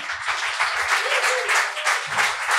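An audience aboard a boat applauds loudly for jazz créole pianist Hervé Selcal, a brief, dense burst of many hands clapping close by, with no talk.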